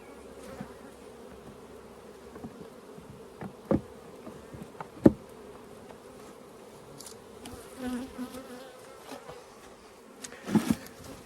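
Honeybees buzz around an opened hive while splits and nucs are made, a low steady drone with occasional louder passes of individual bees close to the microphone.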